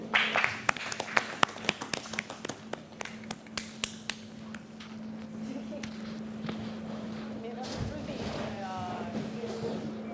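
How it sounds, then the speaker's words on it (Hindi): A small group on a reality show set claps for a contestant, with a few loose, sparse hand claps at first that give way to a dim murmur over a steady low electrical hum, and voices briefly heard. "मेरे ख्याल में वजीर के लिए ताली होनी चाहिए।"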